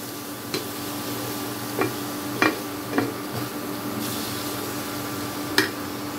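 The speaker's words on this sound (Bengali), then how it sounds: "এখন এটাকে খুব ভালো করে মশলার সাথে একটু মিশিয়ে দেব।" Pasta for a spicy egg pasta dish is stirred with spices in a pan over a low sizzle, with a handful of separate scraping strokes from a utensil against the pan.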